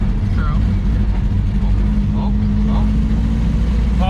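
A 1969 Baja with a gummed-up carburetor and old gas drones loudly and unevenly as it drives, its rough engine noise steady throughout while people talk over it.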